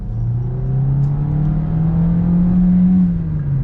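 A 2023 Kia Niro Hybrid accelerates hard in sport mode from inside the cabin, with a loud, steady engine drone whose pitch climbs smoothly and then levels off, like a CVT.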